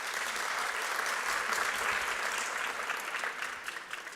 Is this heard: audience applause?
yes